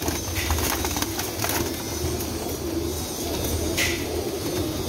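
Crossbred pigeons, golden Teddy crosses, cooing in a loft amid steady background hum and rustle, soft repeated low calls at moderate distance.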